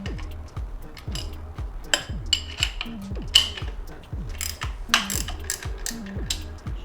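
Hand ratchet loosening a billet catch can fitting on a 2021 Redeye Hellcat Charger, rapid clicking strokes in repeated bursts with short pauses and occasional metal taps, close, no talk.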